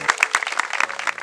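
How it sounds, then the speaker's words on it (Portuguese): Wedding guests clap for the newly married couple in a church ceremony, a short burst of scattered claps with a few sharp louder hits, close and lively. "Você pode aplaudir Jesus por ver esse casal?"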